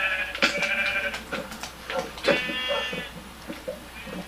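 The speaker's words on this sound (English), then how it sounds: "I punched the sheep into the water because it ran there." Sheep bleat in a video game, several wavering cries in quick succession over a steady low background hum, fairly close and clear.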